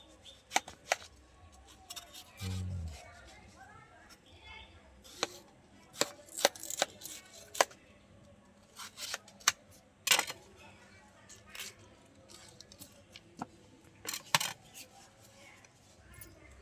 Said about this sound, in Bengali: এবার আমি বাকি তরমুজটা একই রকম করে কেটে নেব